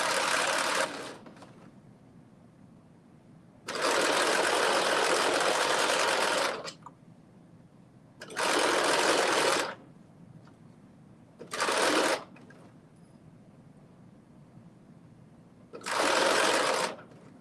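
A sewing machine stitches stretchy knit fabric in short bursts of whirring, five separate runs of varying length with quiet pauses between them.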